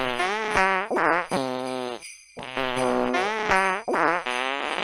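A cartoon fart sound effect plays as a string of comic, wobbling, pitch-bending blasts. The long squeaky bursts come one after another with a short gap partway through, and nobody speaks.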